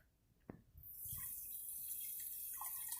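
Vinegar pours steadily into a jar, a continuous splashing hiss that starts after a couple of soft knocks and runs to the end.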